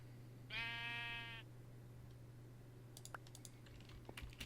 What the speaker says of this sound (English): Sheep, you're on the wrong side of the fence.